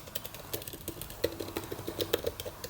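Typing on a newly replaced keyboard of a MacBook Air, quiet clicky keystrokes in an irregular quick run, close up and soft.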